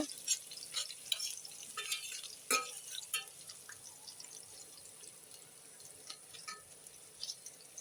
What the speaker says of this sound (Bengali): আমি পেঁয়াজ কুচিটা ভেজে নিচ্ছি, হালকা একটু ব্রাউন কালার হয়ে আসবে।